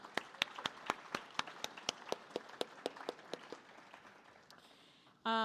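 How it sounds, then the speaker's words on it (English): Community sponsors at an outdoor Bloomsday festival get a round of applause: a small crowd claps in sharp, separate strikes that thin out over five seconds, then a sudden loud burst of noise cuts in at the very end. "Let's give them a big round of applause."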